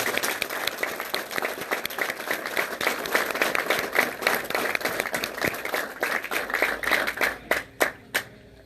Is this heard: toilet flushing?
no